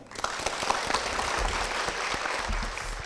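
A church congregation applauds steadily, dense clapping filling the whole stretch at a fairly strong, even level.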